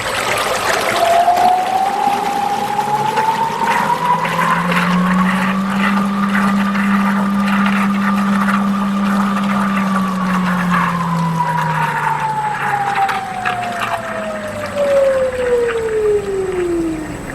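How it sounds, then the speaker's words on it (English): A 50 L vacuum mixer machine's homogenizer runs with a loud whining motor tone that climbs in pitch, holds, then slowly winds back down, over a steady watery churning background with no voices. "Now let's adjust the homogenizer."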